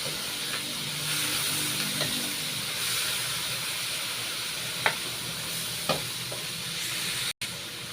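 Vegetables sizzle in a hot pan with seasoning and oyster sauce, a steady hissing fry broken by a few sharp scrapes and clinks of stirring.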